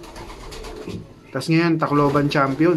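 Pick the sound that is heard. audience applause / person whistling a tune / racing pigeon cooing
racing pigeon cooing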